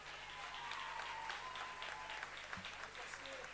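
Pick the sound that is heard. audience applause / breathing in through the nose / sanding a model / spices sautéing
audience applause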